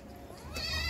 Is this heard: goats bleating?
yes